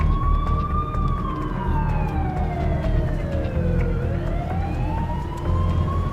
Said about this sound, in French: On entend plein de sirènes.